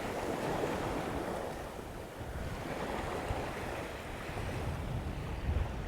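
Ocean waves break and wash up a fairly steep beach at Bamboo Beach on Koh Lanta, Thailand, a continuous low surf roar with gentle surges, mixed with wind buffeting the microphone.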